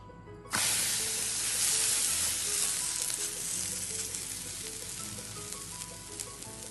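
Thin ragi roti is laid on a hot pan and bursts into loud, close sizzling that starts abruptly, then holds as a steady crackling hiss that slowly eases, with no voices.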